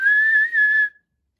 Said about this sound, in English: Thomas likes whistling rudely at him.